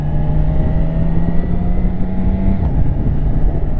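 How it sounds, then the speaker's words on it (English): The big, powerful engine of a BMW K1600 B motorcycle hums in a loud, steady, close drone throughout, with no talk over it. "It's a big engine with a lot of power"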